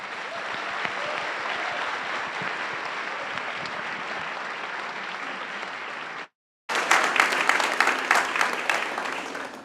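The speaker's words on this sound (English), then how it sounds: "So please do give him a round of applause." Concert audience applause for a cellist at a Christmas choir and orchestra performance, a dense, sustained wash of clapping broken by a short silent gap, then returning brighter and closer.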